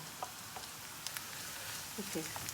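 Chopped onion frying in a pan, a soft steady sizzle with scattered crackles and pops, and a faint voice briefly in the background.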